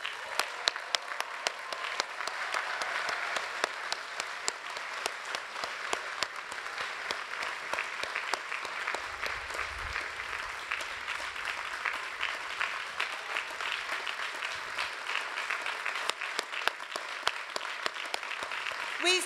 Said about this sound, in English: I ask that all students graduating today stand and be applauded